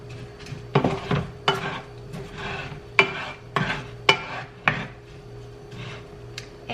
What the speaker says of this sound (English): I'm gonna mix the turmeric in.